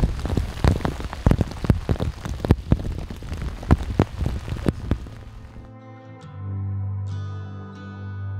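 Heavy rain pours onto a lake during a thunderstorm, a dense, loud, steady patter for about six seconds before giving way to a sustained low tonal hum.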